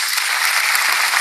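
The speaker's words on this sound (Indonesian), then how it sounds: "tepuk tangan yang keras" Loud, dense applause from a church congregation during a sermon, a steady unbroken wash of clapping filling the space from start to finish.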